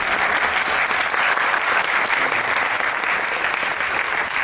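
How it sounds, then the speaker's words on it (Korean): An audience claps for an actress at a film screening Q&A in Korea, a steady, dense wash of applause lasting several seconds, even in level and fairly close, with no talk over it. "박수 한번 부탁드립니다"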